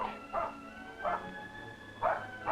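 A dog in a rural river valley with far hills barks while racing a passing mail vehicle, three short yaps spaced about a second apart, somewhat distant over a steady engine hum.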